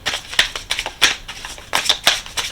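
A deck of cards is shuffled close by in a quick, irregular series of papery riffles and flicks, each burst sharp and fairly loud, with no talking.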